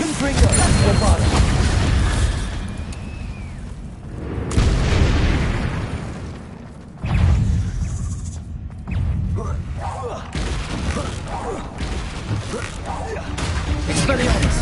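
Spells cast in the Hogwarts Legacy video game burst into a string of loud, heavy booms and blasts, with a few big explosive surges standing out over a constant dense roar of game effects.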